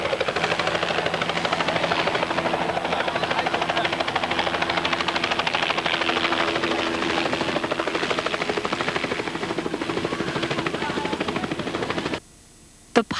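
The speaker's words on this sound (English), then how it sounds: "the Nassau County Police Air Rescue Helicopter landed" A Nassau County Police Air Rescue helicopter lands at a park during a 1991 safety day, its loud, steady rotor chop pulsing rapidly and continuously before cutting off abruptly near the end.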